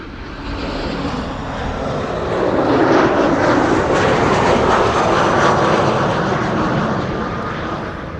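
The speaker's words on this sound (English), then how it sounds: "There's another airplane flying a 737-900." Boeing 737-900 airliner at Amsterdam Schiphol Airport, a loud, broad engine roar that swells toward the middle and eases slightly as it passes overhead, no talking.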